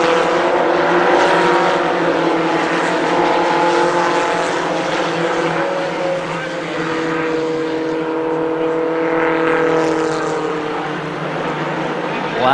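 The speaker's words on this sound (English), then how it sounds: "Bullock trying to change that in the 6 car as he goes to the bottom of Scranton again" Race cars roar around the Columbus Motor Speedway during a 2010 main event, a loud, continuous engine drone with shifting pitch as the field circles the track, under steady play-by-play commentary.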